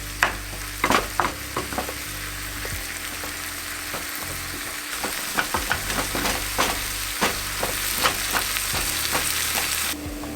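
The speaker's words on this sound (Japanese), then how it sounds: "水分がなくなるまで炒められました。" Taco rice sizzles in a pan with spice and a splash of water as it is stir-fried until the moisture cooks off. A steady close frying hiss is broken by repeated scraping strokes of the spatula.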